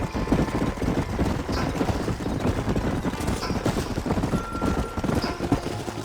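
Horses ridden in the Red Dead Redemption video game make a brisk, continuous clip-clop of hooves, with the rhythmic beats close and clear over a low background rumble.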